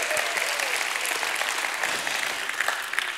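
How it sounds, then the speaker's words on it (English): Church congregation clapping hands in praise, steady dense applause throughout, close and loud with a few cheers mixed in. "Give God a hand clap and a shout of praise."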